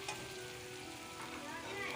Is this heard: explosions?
no